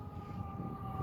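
Ambulance sirens wail in a steady, sustained tone over a dense rumbling background, continuous and fairly close throughout with no talking.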